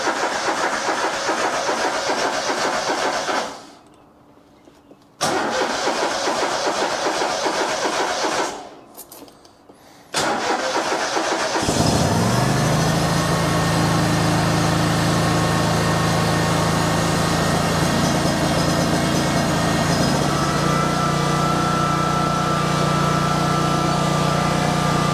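A tractor engine cranks in short bursts, stops twice, then catches and settles into a steady, loud idle that carries on alone to the end.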